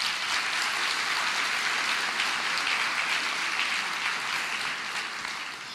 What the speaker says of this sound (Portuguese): Se quiser aplaudir, fica à vontade.